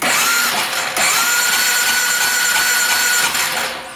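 A Polaris 550 ATV engine cranks with a steady, loud whirring drone and a high whine, running continuously with a slight dip partway through.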